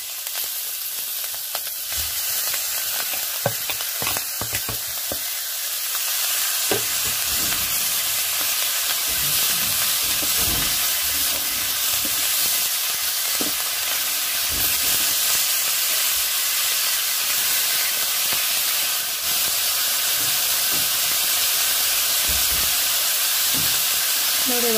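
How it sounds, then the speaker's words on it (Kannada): Tomatoes frying in a pan with grated coconut for saaru, a South Indian soup: a loud, steady hiss and sizzle fills the whole stretch, close up, with occasional scraping stirs and faint voices underneath. "ಆದರೂ ಸ್ವಲ್ಪ ಟೊಮೊಟೊ ಹುರಿದಿದೆ"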